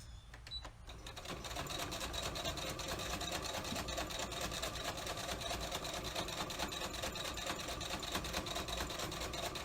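A sewing machine top-stitching a fabric face mask, starting after a brief pause and then running in a fast, even mechanical rattle at close range.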